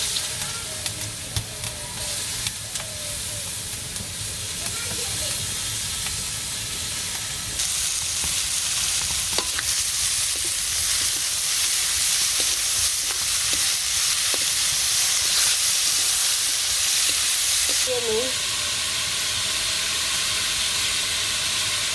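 Lentils stirred and dry-frying in a hot pan give a steady, close sizzle and hiss with soft scraping from the stirring, running throughout with no talk.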